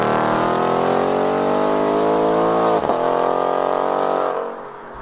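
A modern car with its exhaust butterfly valve open revs hard, a loud, sustained engine drone that climbs steadily in pitch, dips briefly, then eases off near the end.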